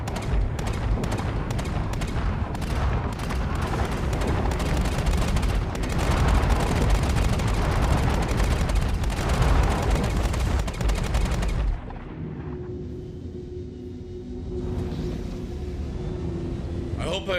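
Rapid bursts of 30 mm ballistic cannon fire in a video game, repeated heavy booming shots in quick succession that fill the first twelve seconds before dropping to a quieter hum, with a voice talking over it.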